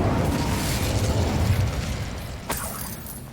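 The Bombarda blasting spell in Hogwarts Legacy erupts as a loud rumbling explosion that fades slowly, then a sharp crackling burst follows near the end.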